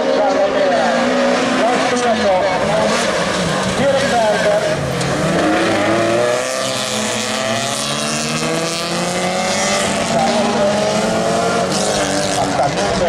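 Super Touring 2000 rallycross race cars at Maggiora during an FIA CEZ Rallycross championship event, loud revving engines roaring and shifting continuously as the pack passes, with commentary voices underneath.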